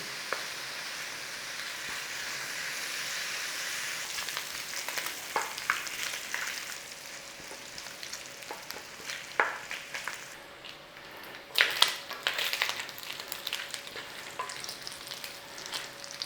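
Bacon bits frying in a pan give a steady crackling sizzle throughout, with occasional louder pops and spatters and a few scrapes of a utensil.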